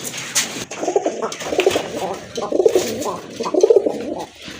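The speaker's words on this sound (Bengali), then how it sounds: "আর এটা ডাকের সাউন্ডটাও কিন্তু মাশাআল্লাহ অনেক ভালো।" Caged pigeons at a pigeon farm coo in several deep, rolling phrases close by, while people talk over and around the calls.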